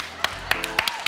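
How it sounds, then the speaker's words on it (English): A few scattered hand claps from a small group at a live comedy show at the Sydney Opera House, sparse and uneven, over a low background murmur. "it took a while even for the prosecution to applaud"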